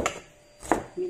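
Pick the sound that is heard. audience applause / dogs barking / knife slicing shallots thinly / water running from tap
knife slicing shallots thinly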